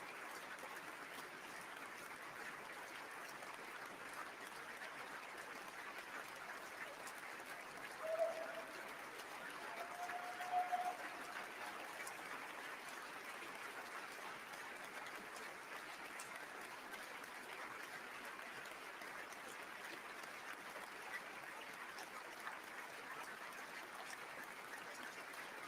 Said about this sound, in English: And the applause continues.